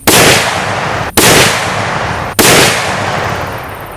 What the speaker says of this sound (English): This muzzle brake is so efficient that it reduces the recoil, but in that, the blast is just massive.